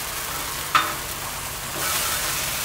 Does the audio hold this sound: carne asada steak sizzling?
yes